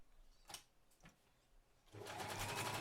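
Sewing machine stitching over a thick jeans seam: a couple of brief clicks, then a loud, steady motor whir starting partway through and running to the end.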